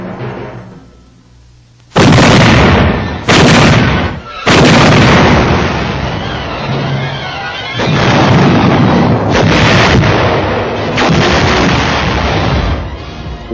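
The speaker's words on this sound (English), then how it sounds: "placed our artillery and commenced firing at Wakti" WW2 artillery fires on Wakti Island off New Guinea: several loud, booming blasts in succession, each rolling out into a long rumbling decay after a quiet opening.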